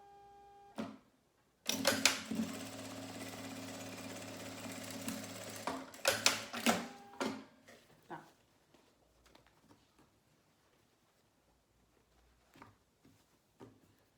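A sewing machine stitches a fabric manicure pouch in one loud sustained run, then stops; scattered clicks and handling knocks follow, with faint bursts later.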